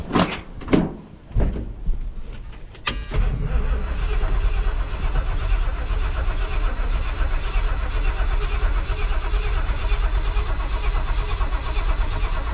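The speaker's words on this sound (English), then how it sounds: "I'm just gonna run it for a second off the starting fluid and get it primed" A Ford F100 truck engine cranks briefly after a few knocks, then catches on starting fluid and settles into a loud, steady running roar close by.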